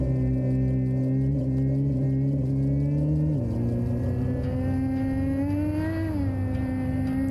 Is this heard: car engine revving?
yes